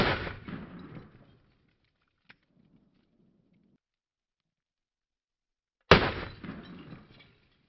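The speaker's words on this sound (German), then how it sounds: "5 Schuss mit der FP45 Liberator." Two sharp shots from an FP-45 Liberator pistol ring out several seconds apart, each a loud crack with a short echoing tail, with near silence between them.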